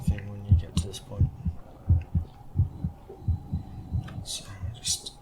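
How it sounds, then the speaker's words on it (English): Quickening heartbeat in the video game Osiris New Dawn, a steady low thumping double pulse repeating about every two-thirds of a second throughout, with faint breathy hiss bursts near the end. "So you hear your heartbeat increasing a lot"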